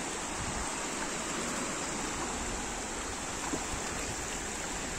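Gentle sea waves wash along the beach at Liepāja as a steady, soft hiss of surf with no distinct breaking crashes, faint and continuous throughout, with no voices.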